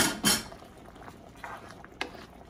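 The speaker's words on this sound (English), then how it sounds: "Now we are going to add our mushrooms back in. Give that a good stir." Mushrooms are stirred back into chicken stroganoff in a pan, giving soft spoon clinks and scrapes with a faint bubbling simmer underneath, quiet and close.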